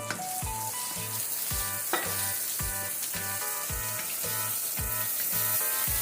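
Green seasoning sizzling in a hot pan for Guyanese stew snapper, a steady bright frying hiss with rhythmic stirring or scraping strokes and a few clinks, close up with no talking.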